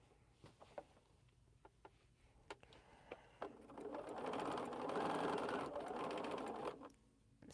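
A sewing machine, driven by a foot pedal, ticks a few times, then runs in a steady whirring burst for about three seconds before stopping, close and fairly quiet.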